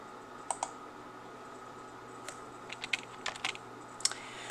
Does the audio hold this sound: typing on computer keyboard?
yes